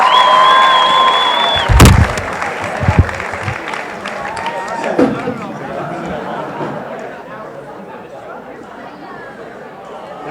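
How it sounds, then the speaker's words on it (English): Applause and cheering from an audience after a Purim shpiel, a loud burst of clapping and whoops with a sharp bang that settles into crowd chatter and scattered voices. "Let's have a big round of applause for the purim shpiel."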